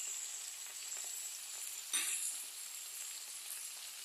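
Potatoes frying in a pan with a steady, close sizzle, broken once by a sharper clatter as they are stirred.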